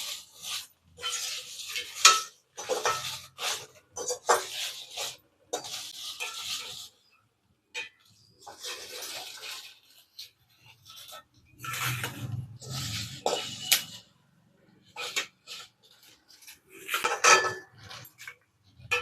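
Roasted spices for a mutton and chicken kurma masala are scooped and scraped from a metal pan, giving intermittent bursts of clinking and scraping with quiet gaps between, close and moderately loud, without talk.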